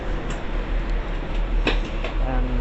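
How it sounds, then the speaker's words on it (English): A two-coach GWR Greenford shuttle train runs with a steady low rumble and broadband rolling noise, punctuated by a few faint clicks and ticks, with faint voices underneath. "This is literally a train only formed of 2 coaches."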